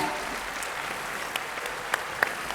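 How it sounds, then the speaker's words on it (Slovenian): Quiet applause for dancers at a dance show, a soft, steady patter of clapping with a few sharper individual claps standing out near the end. "En velik aplavz prosi za vse plesalce danes in za vse škratovske starešine."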